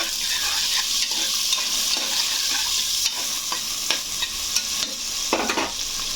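Onion and green chillies fry in a pan for a mutton recipe, a bright continuous sizzle close by, punctuated by repeated scraping strokes of a stirring spoon.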